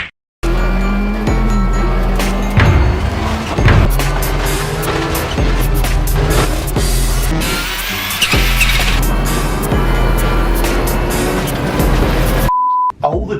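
Colin McRae's WRC Subaru Impreza rally car driving hard, a loud sustained engine roar with gear changes and surges, cutting out abruptly near the end.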